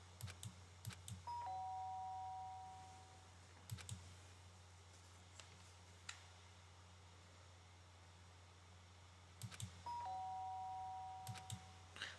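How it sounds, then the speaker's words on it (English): Doorbell chime in the video game Danganronpa, two clear ding tones ringing twice with a pause between, faint against low background hiss and scattered clicks. "The sharp sound of the doorbell pierced my sleepy haze, pulled me back to the real world."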